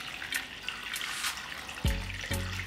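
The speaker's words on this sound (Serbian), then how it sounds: "I sipat ću vodu do visine poklopca" Water pours into a cooking pot packed with glass jars of meat being readied for canning, a splashing, gushing run that gives way to hollow, ringing fill sounds near the end.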